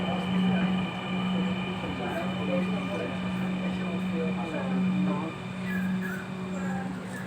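A Dhaka metro rail train pulls into a station with a steady, loud rumbling hum and a sustained electrical whine, and indistinct voices murmur over it.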